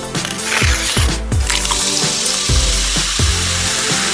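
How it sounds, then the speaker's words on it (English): Cold water pours steadily into a container to mix instant beer, a continuous splashing gush with bubbling, gurgling pulses that fills the whole stretch and has no talk over it. "Just add cold water and you're ready to go."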